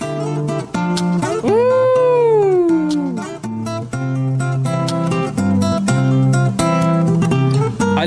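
Acoustic fingerstyle guitar cover played with sharp percussive slaps on the strings, heard as snare-like hits scattered through a steady melody with quick strums and a sliding, bending note; loud and close, with no talking.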